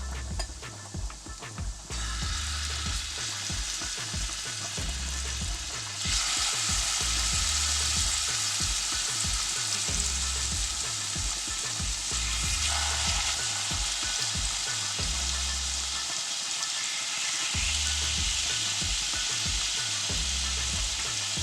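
A loud, steady sizzle of salmon frying in hot oil in a pot, crackling continuously with occasional bursts and a brief stir partway through.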